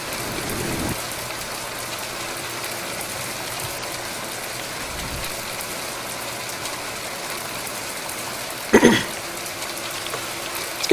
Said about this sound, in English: Let's get rid of some of this rain here.